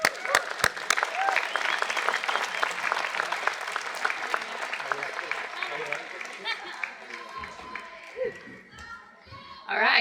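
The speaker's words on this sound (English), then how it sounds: "And we just want to give her a round of applause." A crowd at a March For Life rally in Brisbane claps and cheers in a loud, sustained burst, with a few whoops and children's voices mixed in as the applause thins toward the end.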